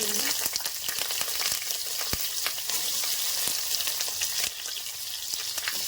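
Eggplant pieces frying in hot oil tempered with panch phoron and dried chili: a loud, continuous close-up sizzle full of dense crackles and pops throughout.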